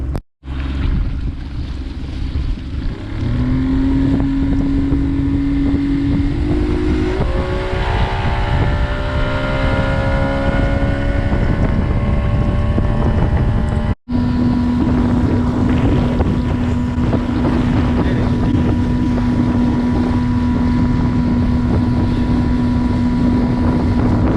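A motorboat outboard motor, recently overheated, runs steadily while the boat is driven across the water, rising in pitch as it speeds up, with strong wind buffeting the microphone throughout and a brief dropout midway.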